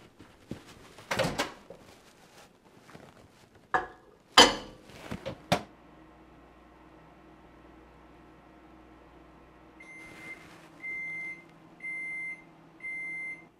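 Some clattering and a door clunk, then a low steady hum of an appliance running, followed by four evenly spaced electronic beeps.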